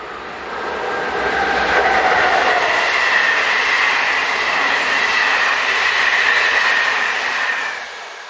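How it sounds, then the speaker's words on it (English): A Class 150 diesel train passes on the tracks, swelling to a loud steady rumble with rail clatter and a faint wheel squeal, then fading away at the end. "In the opposite direction comes 150-202."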